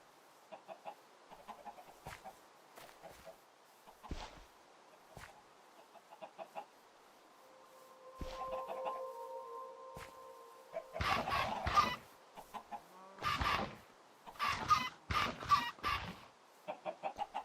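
Chickens in Minecraft cluck repeatedly, short pecking clucks scattered throughout, then louder bursts of squawking in the second half, with no one talking.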